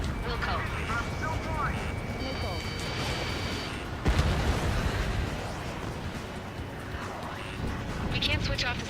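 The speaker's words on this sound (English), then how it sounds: "How many got caught in that explosion?" During an Ace Combat 7 campaign mission on PS4, a sudden booming explosion bursts out midway through a constant roar of jet engines, with voices speaking over the din.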